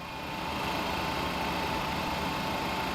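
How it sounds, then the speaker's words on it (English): An ERJ145 regional jet's engine 1 spools up in a flight simulator as a steady, dense turbine hiss and whine, building slightly at first and then holding constant with no talk. "And engine 1 start."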